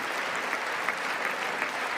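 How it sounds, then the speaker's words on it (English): Sustained applause from the audience in the chamber during the State of the Union address, an even, dense wash of many hands clapping with no break. "they just love clapping"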